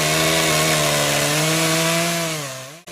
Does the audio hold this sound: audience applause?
no